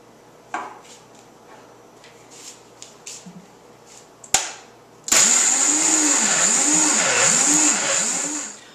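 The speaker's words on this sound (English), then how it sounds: "And just chuck them all into your Vitamix. And you want to give them a good blend." A Vitamix blender blending coconut chips for snow cake: a few light knocks and clatters, then the motor roars up loud and close into a sustained grinding whir with rhythmic wobbling as the chips break down.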